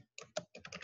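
A close burst of typing on a computer keyboard while entering a web address, with rapid clustered keystrokes and a brief pause in the middle, and no voices.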